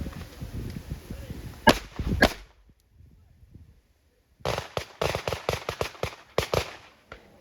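Pistol shots fired from the draw at close-range targets crack out sharply: a pair of loud reports, a pause, then a rapid string of many close, crisp shots.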